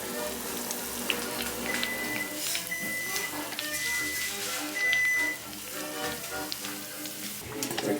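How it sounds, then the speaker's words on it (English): Beignets sizzling in hot oil, a steady crackling hiss with scattered pops and spatters, close and moderate, a brief louder burst midway. "We're gonna fry these to a nice golden brown"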